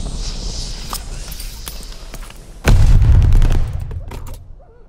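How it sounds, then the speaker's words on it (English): Bombing run explosions in the video game Call of Duty: Vanguard: scattered sharp gunshots and thuds, then a heavy booming blast that rumbles loudly for about a second before fading into more distant pops. "Allies called a bombing run."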